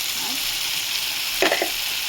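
Spices with turmeric, Kashmiri chili powder and green chilies being sautéed in a pan for a dried-fish sutki curry, a steady close sizzle with a brief scrape of stirring partway through.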